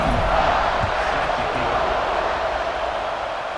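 A dense, steady roar of a stadium crowd fills a College Football 26 video game during a kickoff, a loud continuous wash of cheering that holds throughout with no break.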